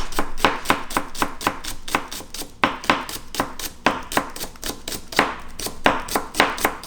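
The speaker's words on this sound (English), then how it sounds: "White diced onions, 1/3 inch." Knife steadily dicing white onions into third-inch pieces on a cutting board, for tofu soup: a brisk, even run of close, crisp chops repeating about three times a second, with no voices.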